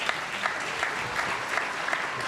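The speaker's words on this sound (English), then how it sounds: "Give them another round of applause." Audience applause at a high school athletes' awards celebration, a continuous even wash of clapping at moderate volume that holds steady throughout.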